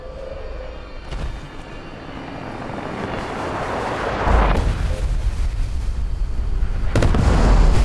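A nuclear explosion in Fallout 76: a deep rumbling roar swells steadily, growing louder and heavier partway through with booming surges, like a huge blast rolling on and on.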